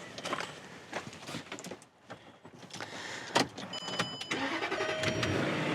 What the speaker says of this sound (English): I'm gonna start the engine of this Rover.